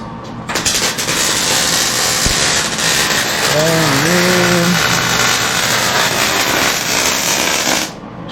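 Welding rear hangers onto a 1946 Chevy: a loud, steady, harsh buzzing hiss runs unbroken for about seven seconds, with a brief voice sounding faintly partway through.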